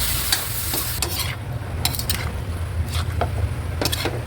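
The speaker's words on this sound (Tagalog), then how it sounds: "At ilalagay na rin natin guys yung ating pusit." Squid stir-fried in a pan for ginisang pusit, a steady close sizzle with scraping strokes of a utensil stirring against the pan at irregular intervals, no voices.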